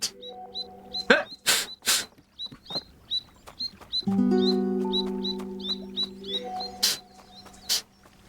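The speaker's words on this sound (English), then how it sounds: "Also, that bird screamed a lot." A cartoonish bird in the Moominvalley video game shrieks and chirps in quick, repeated, high squeaky bursts, with sharp percussive hits and soft musical tones mixed in.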